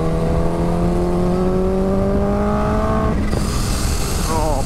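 Kawasaki Ninja H2 motorcycle accelerating hard, a loud close engine whine climbing steadily in pitch before a brief drop at the gear change, then pulling up again.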